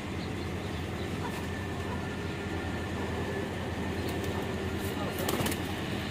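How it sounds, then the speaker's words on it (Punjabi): Desi pigeons coo softly against a steady noisy background, with faint cooing scattered through and a few brief clicks near the end. "ਵੇਖ ਲਓ ਹੁਣ ਕਬੂਤਰ ਮਾਸ਼ਾਅੱਲਾ।"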